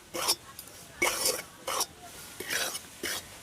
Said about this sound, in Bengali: এবার এই ঘিয়ের সাথে আতপ চালের গুঁড়িটাকে হালকা একটু ভেজে নেব